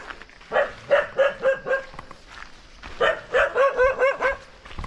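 A dog barks repeatedly in two quick bursts of yaps, moderately close, with a short pause between the runs.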